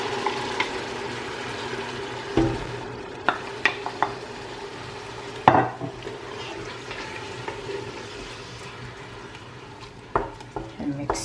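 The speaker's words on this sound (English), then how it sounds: "So now I'm adding the tomato paste and everything in here." A spoon stirs tomato paste frying into a jollof stew base in a pot, with a soft steady sizzle under scattered scrapes and knocks against the pan, close and moderately quiet.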